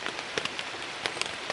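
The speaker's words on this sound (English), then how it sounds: "but it started raining again." Rain patters steadily at a campsite on a backpacking trail, with soft scattered drops tapping a surface up close and a constant hiss beneath, no voices.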